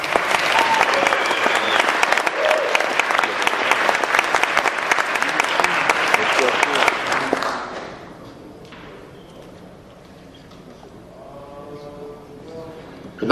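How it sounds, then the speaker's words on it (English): Loud, dense audience applause at a bodybuilding Hall of Fame award show fills the first seven and a half seconds, then fades to quiet room tone with a speaking voice near the end. "How about a big round of applause for Lee Labrada?"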